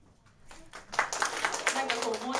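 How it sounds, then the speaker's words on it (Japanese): Scattered claps build into a steady round of audience applause at a live concert, with voices murmuring underneath. "なんかこう申し訳なさの拍手がします。"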